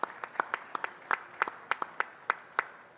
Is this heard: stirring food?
no